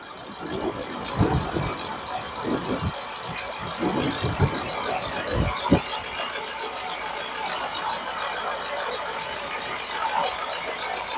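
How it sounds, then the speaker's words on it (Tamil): A car engine runs at idle with a low steady rumble and light rattle, while someone talks over it in the first half. "இன்ஜின் ரன்னிங்ல இருக்கு பாருங்க."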